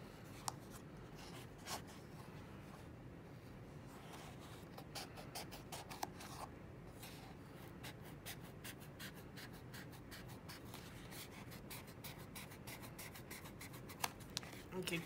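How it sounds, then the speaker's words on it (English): Scissors snip through folded craft foam along pencil lines, making a series of quiet, irregular crunching cuts and scrapes, close and soft, with faint rustling in between. "And just cut on the line that you drew."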